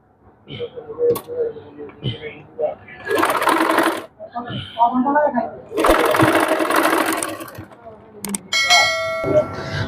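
A sewing machine stitches lace onto the sleeve of a double-part blouse, running in loud bursts with pauses between and some faint mechanical clinks.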